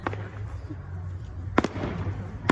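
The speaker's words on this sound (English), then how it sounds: "they had fireworks today" Distant fireworks at a baseball stadium pop and crackle in scattered bursts over a low, steady rumble of background noise, with faint voices mixed in.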